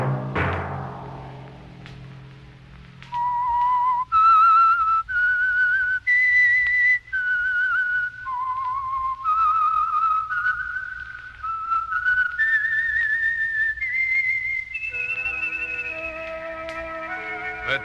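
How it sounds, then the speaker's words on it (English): A whistled radio theme signal for the Signal Oil program The Whistler, a lone melodic whistle of rising and falling sustained notes that plays clearly for most of the stretch with no talk over it. "Let that whistle be your signal for the Signal Oil program, The Whistler, each Sunday night at this same time"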